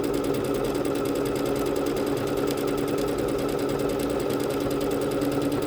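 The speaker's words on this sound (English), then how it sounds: "as I'm watching this stitch out" A Bernette B-77 embroidery machine stitches out a decorative pattern, a steady rapid mechanical chatter of needle strokes that holds even and continuous at moderate level throughout, with no voices.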